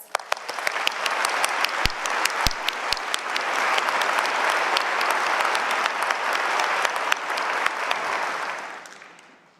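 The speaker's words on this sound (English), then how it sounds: "let's have a round of applause for our graduates" Sustained applause from a large audience at a university convocation ceremony honoring graduates, a few sharp claps starting it before the crowd's clapping swells into a dense, steady roar for several seconds and then tapers off.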